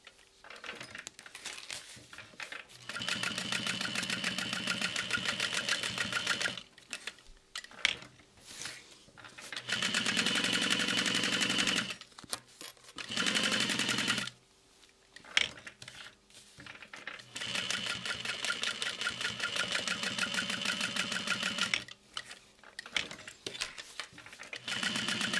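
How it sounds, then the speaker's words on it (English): A sewing machine stitches around a backpack shape in long bursts of steady, rapid needle chatter, stopping briefly between runs and pausing near the middle before resuming. "We're going to walk in. And sew around the shape."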